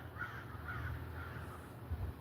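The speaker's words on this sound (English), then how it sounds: "Got birds flying around." Crows cawing outdoors, a few harsh repeated calls at moderate distance over steady low rumbling background noise, with no talking.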